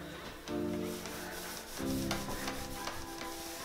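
Fingers rubbing wax onto a metal plate for a porch sign post, a close, soft, steady scrubbing friction in two long strokes.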